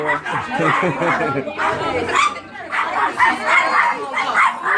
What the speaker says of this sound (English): she's scared of small dogs. Oh, it's okay. They're loud.